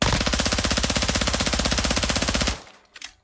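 An SMG in Modern Warfare 2 fires uncontrolled in one sustained rapid burst, loud and close, a fast even stutter of shots for about two and a half seconds before cutting off into faint echoing tails.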